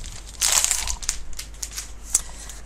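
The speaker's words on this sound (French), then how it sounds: "je vais vous le déballer" Plastic wrapping crinkles and crackles as a package of fabric is unwrapped, a dense burst of rustling followed by softer scattered crinkles and one sharper snap, close and fairly quiet.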